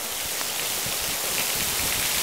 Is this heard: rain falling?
yes